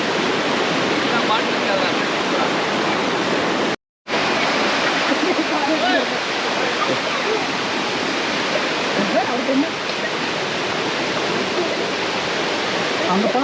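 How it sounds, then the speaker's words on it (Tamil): Anayadikuthu waterfall in Thodupuzha, Kerala, with water falling heavily: a loud, steady broadband roar that fills the clip, broken only by a brief silent gap near the start. "இந்த தண்ணி தான் கீழே போயிட்டு பயங்கரமாக விழுது."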